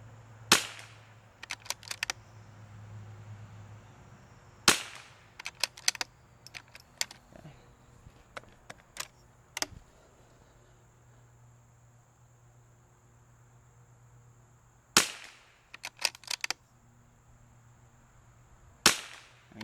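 Several 22LR rifle shots, fired from a rest at long-range targets, crack out as sharp isolated reports in small bursts separated by quiet pauses, with a faint steady hum underneath.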